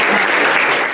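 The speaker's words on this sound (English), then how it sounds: "Let's give another round of applause to these." An audience at a summer camp graduation ceremony gives a round of applause, a thick, continuous burst of many clapping hands, loud and sustained, tapering slightly at the end.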